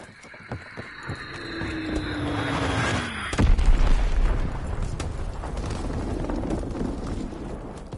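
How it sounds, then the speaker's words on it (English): An Azon bomb dropped in Call of Duty WW2: a descending whistle of the falling bomb, then a loud, deep explosion near the middle of the clip, with rumbling debris and game ambience trailing off afterward. "Dropping Azon bomb."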